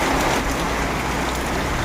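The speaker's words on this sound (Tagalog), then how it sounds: "Basta todo lang ulan." Heavy rain pours without a break, a loud, dense, even hiss with no gaps and nothing else standing out.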